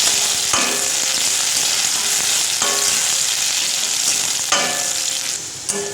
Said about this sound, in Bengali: শুকনো লঙ্কাটা দিয়ে দিয়েছি, এবার রসুনটাও দিয়ে দেবো, ভালো করে ভাজা ভাজা করে নেবো